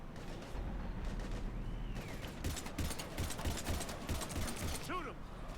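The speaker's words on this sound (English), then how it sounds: "We're taking heavy fire." Heavy gunfire in the Mass Effect 3 video game, dense rapid shots and bursts crackling through the whole stretch with some mechanical clatter, loud and close under a noisy battle mix.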